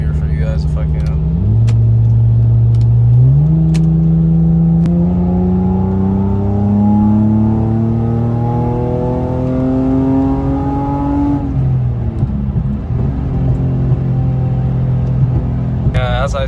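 A 2JZ-engined Lexus GS300 with a single-exit exhaust and Megan Racing midpipe roars close by, shifting up through a couple of quick gear changes before climbing in a long, hard-pulling rev.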